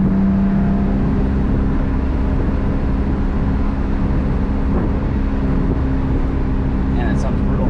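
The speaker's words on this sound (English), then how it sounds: "Out that rolling anti-lag." A tuned 2000 Audi B5 S4 runs rolling anti-lag, producing a loud, continuous engine roar heard up close that stays at the same level throughout.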